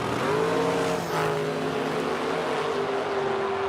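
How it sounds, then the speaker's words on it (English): A 1966 Chevy Camaro drag racing at a track in Edmonton: loud, steady engine roar with a sustained rising-then-holding tone, close and continuous throughout with no talk. "in the left lane behind the wheel of a 66 Chevy Camaro"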